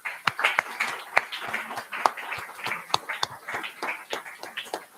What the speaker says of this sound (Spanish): Recibámosla con un cariñoso y fuerte aplauso.